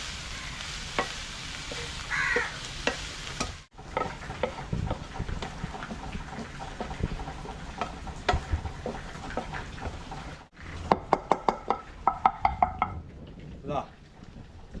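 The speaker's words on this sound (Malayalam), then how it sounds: "ഇളക്കി കൊടുക്കുക." Chicken frying with curry leaves in a pan sizzles steadily under a speaking voice, broken by scraping stirs and a quick run of sharp utensil knocks near the end.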